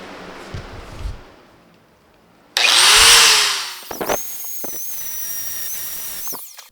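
Grinding on metal on a 1965 Ford Mustang quarter panel: a tool spins up with a loud hissing whine that fades, then a higher steady whine follows with scattered knocks and clatter nearby.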